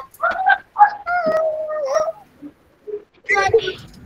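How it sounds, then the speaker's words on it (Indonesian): A cat meows several times nearby during an online school class, with drawn-out, wavering cries in quick succession, a short pause, then a final harsher burst. "kucing. Ada kucing."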